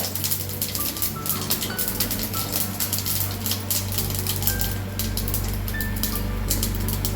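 Mustard seeds splutter and pop in hot coconut oil in a pan, a steady dense crackle with sharp spitting snaps close by throughout.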